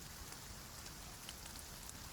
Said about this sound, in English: The rain settles a little softer.